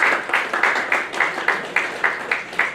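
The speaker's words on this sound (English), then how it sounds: "Let's give a round of applause again." Audience at an alumni testimony talk clapping in a steady rhythmic round of applause, regular bursts of hand claps, fairly close and clear.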